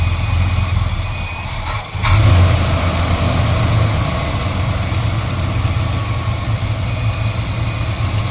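Engine idling steadily with hydraulic valve lifters loosened until they tick, a continuous close mechanical rumble with a brief dip and swell near two seconds, no voices.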